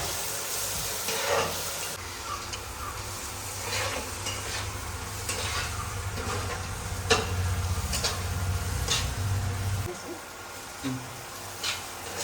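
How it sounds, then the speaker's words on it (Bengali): Mutton sizzles with chili and cumin in a pan while a spoon scrapes and stirs it in repeated strokes, the frying hiss fairly quiet throughout. "এবার আমি ভালোভাবে এটাকে নেড়ে দেবো।"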